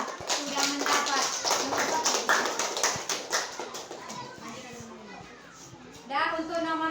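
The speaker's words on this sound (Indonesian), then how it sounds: "Tepuk tangan dulu untuk semuanya" Children in a classroom clap together in a burst of quick, fairly close claps over the first few seconds, mixed with a teacher's voice and children talking, the clapping fading as talk continues.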